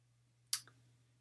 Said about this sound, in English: I'm going to click on grades.